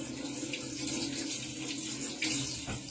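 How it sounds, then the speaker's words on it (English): Parsley is rinsed under a running kitchen tap, a steady close hiss of flowing water splashing into a sink, with a brief splash change near the end. "Give it a quick rinse"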